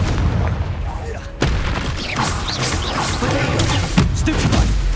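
Confringo blasting spell explosions in the video game Hogwarts Legacy, a busy run of sharp booms and crackling impacts layered over continuous battle noise, with one harder hit near the end.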